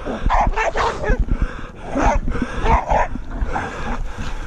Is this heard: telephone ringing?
no